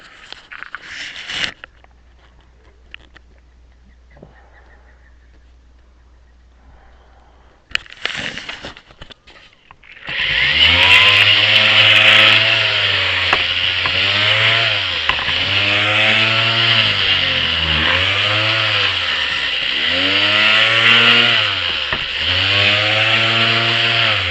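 A power sander with a 3M sanding disc starts up after a quiet stretch and runs loud and steady, its whine rising and falling in a repeating pattern as it grinds.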